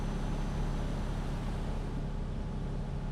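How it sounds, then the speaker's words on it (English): A truck engine in Euro Truck Simulator 2 roars as a dense, steady, loud rumble with a broad hiss on top, holding constant throughout. "I don't get the full effect of the roar of the engine"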